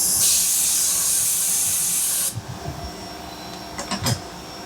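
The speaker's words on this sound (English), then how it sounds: "Got so much coolant on it there." Coolant spraying onto a 17-4PH H1025 stainless steel part during machining: a loud, steady, close hiss for about two seconds that cuts off, leaving a quieter hum with a few knocks and clicks.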